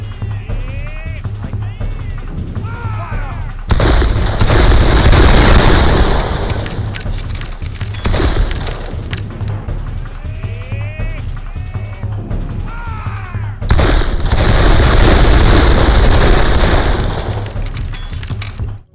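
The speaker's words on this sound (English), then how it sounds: "constant gunfire adding to the ambience. Especially in the Civil War sections of the game with the cannons and stuff" Loud bursts of gunfire and heavy cannon blasts erupt in waves over a busy Civil War battle soundscape in a video game, with chirpy effects and voices in between.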